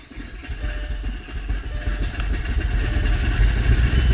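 A car engine with a new cam idling roughly with a lumpy, loping rhythm, growing slightly louder over a few seconds; no talking.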